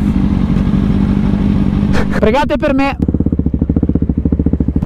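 Motorcycle engine running close by, a low steady rumble that briefly rises in pitch as someone speaks over it, then settles into a loud, regular chugging idle pulse.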